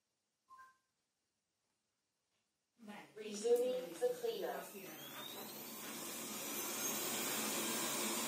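After a brief beep and silence, a Xiaomi robot vacuum motor starts up with some clattering, then settles into a steady whirring hum that continues to the end.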